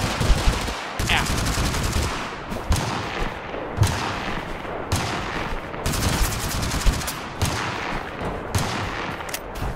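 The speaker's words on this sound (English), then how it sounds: "That is not a shotgun. That is absolutely—that's a Winchester rifle." Winchester rifle fire in the battle game TABG, heard as loud, repeated sharp gunshots spaced roughly every second for nearly ten seconds, with more distant gunfire mixed in and no talking.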